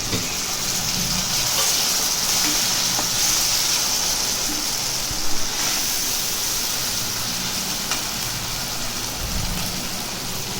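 Chopped tomatoes fry in a pan for a sundakkai vathal kuzhambu, giving a steady, dense sizzle and hiss that runs evenly throughout with no talking.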